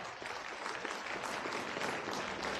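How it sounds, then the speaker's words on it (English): Applause from an auditorium audience at a student talks showcase, a dense, steady wash of many hands clapping throughout, fairly close and loud, with no talk over it. "Can you give a round of applause for all the people who participated?"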